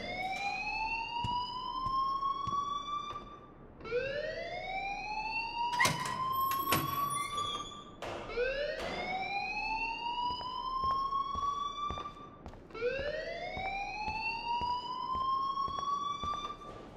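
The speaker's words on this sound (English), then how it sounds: "please turn off that alarm since that's your job" A fire alarm rings in the video game Life is Strange: four loud, rising electronic sweeps repeat about every four seconds, with a brief clatter midway and no talking.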